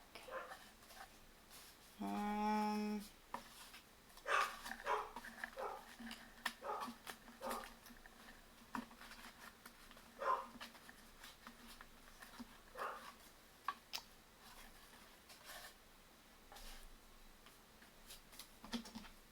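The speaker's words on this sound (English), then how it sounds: "He just likes to stand at the door and bark." A dog barks repeatedly while standing at a house door, with sharp intermittent barks scattered through the stretch over a quiet indoor background and a brief whining tone early on.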